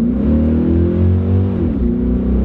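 A Corvette's V8 burbles loud and close as it accelerates, a deep steady rumble with rising engine harmonics that dip briefly mid-run before pulling again, no voices over it.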